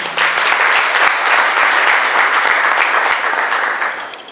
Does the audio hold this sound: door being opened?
no